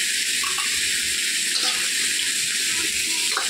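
Bitter gourd and potatoes frying in oil, a loud, steady hissing sizzle throughout a few seconds, with no distinct stirring.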